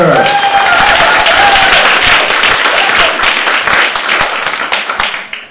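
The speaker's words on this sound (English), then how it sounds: "big round of applause for Greta Enzer." Loud, close applause from a comedy evening audience greets a performer, an early whistle riding on top of dense clapping that gradually tapers off toward the end.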